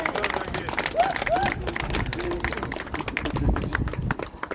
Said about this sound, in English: Give a good round of applause